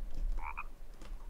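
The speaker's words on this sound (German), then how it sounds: "Genau, Frosch." A frog croaks in the survival video game The Forest, two short close croaks in quick succession over low background hum, with a faint echo after.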